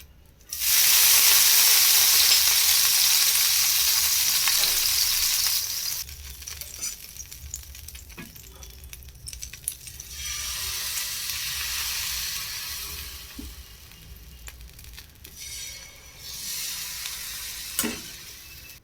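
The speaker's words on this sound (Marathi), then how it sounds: "तवा तपलेला आहे आता आपण त्याच्यावरती बॅटर टाकूया" Loud, bright sizzle as banana-flour dosa batter hits a hot griddle, easing into a quieter crackle and swelling again later, with faint clinks.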